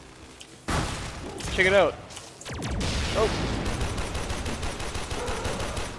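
A turret firing in the Warframe game, rapid mechanical bursts and rattling shots across the clip, mixed with a man's loud, agitated voice near the start and brief talk later.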